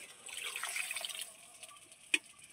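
Water poured into a cooking pot of sautéed vegetables makes a brief soft gushing splash that fades away, followed by a couple of small clinks.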